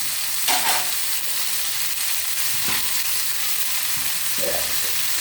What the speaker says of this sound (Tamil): தக்காளி கொஞ்சம் வதங்கட்டும்